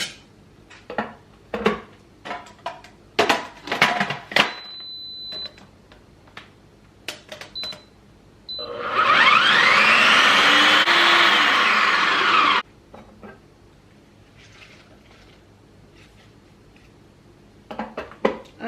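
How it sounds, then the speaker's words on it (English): A blender whirs loudly for about four seconds, blending fresh herbs and scallion. Scattered kitchen clatter and knocks come before it, and a few more knocks follow afterward. "And then you can blend it."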